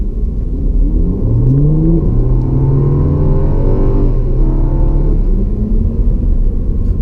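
A 2021 Rolls-Royce Ghost engine revs and accelerates hard, its deep roar rising in pitch through the gears, loud and close throughout.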